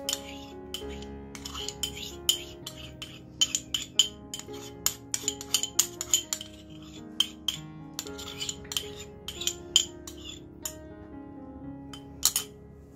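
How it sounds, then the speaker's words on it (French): Cocoa mixture being added to a bowl and stirred in for a chocolate log cake, with a run of close, bright clinks and taps of a utensil against the bowl, irregular and sometimes rapid, with no talking. "Je vais ajouter le mélange cacao."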